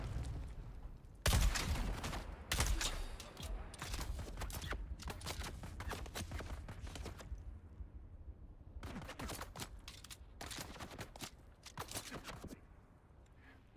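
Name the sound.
gunfire from the video game Dune Awakening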